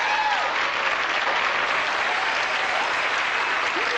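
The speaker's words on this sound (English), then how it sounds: "Why was Matt's mom applauding?" An audience at a David Copperfield magic show applauds, dense, steady clapping filling the whole stretch at an even loudness, with no pauses or voices standing out.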